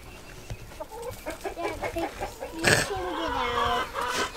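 A rooster crows loudly and close by on a farm in the morning, a harsh drawn-out call that follows a run of clucking from chickens, with a little background noise.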